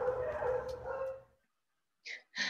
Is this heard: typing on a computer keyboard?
no